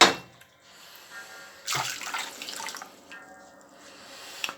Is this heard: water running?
yes